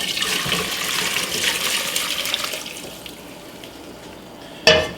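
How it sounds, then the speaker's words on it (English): Hot shoyu broth poured through a strainer into a pot to catch the ginger and garlic pieces, a steady splashing rush of liquid that fades out, then one sharp clunk near the end. "let's strain this shoyu broth"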